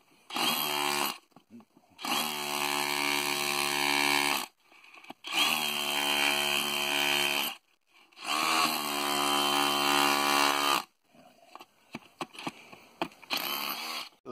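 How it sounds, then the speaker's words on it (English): A rotary hammer drill runs in three long, loud, steady bursts of a few seconds each with short pauses between, ending in a few brief, sputtering starts. It is close by, with no talking. "that rotary drill, hammer drill, works just fine"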